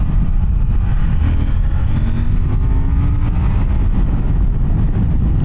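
A KTM Duke 790 motorcycle engine roars steadily close by, its pitch climbing in a few rising sweeps as it revs under throttle, loud and continuous with no talking.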